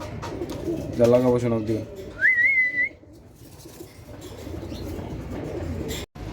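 Hammer knot pigeons at a breeding farm coo and give a rising whistle-like call close by, partly mixed with someone talking in the foreground.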